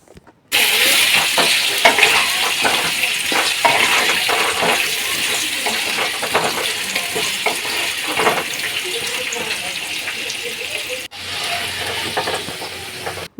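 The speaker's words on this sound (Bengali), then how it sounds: "কড়াইতে তেল দিয়ে প্রথমে আলুগুলো ভালো করে ভেজে নেব" Potatoes frying in oil in a wok: a loud, dense hiss of bubbling oil runs almost unbroken from start to finish, with a brief gap near the end and no talking.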